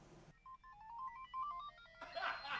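A mobile phone plays a quick melodic ringtone, a bright beeping tune of short notes, fairly faint, before a burst of noise cuts in.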